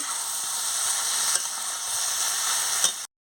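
Sliced potol, jhinge and potato fry in a pan with turmeric and poppy seed paste, giving a steady, close, bright sizzle throughout, with a couple of sharp crackles before the sound stops abruptly.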